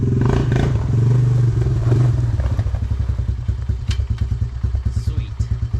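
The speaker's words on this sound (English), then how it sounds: "This is our new Can-Am DS250" A Can-Am DS250 ATV engine idles nearby with a loud, rough, chugging pulse that settles into a rapid, even putter, with light clatter over it.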